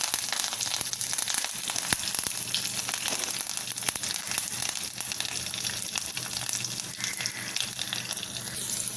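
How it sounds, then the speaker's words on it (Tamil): Mustard seeds, broken urad dal and curry leaves splutter in hot oil while tempering beetroot chutney: loud, close, continuous frying with dense sharp pops and crackles throughout. "கடுகு உளுந்தம்பருப்பெல்லாம் நல்லா பொரிஞ்சிருச்சு."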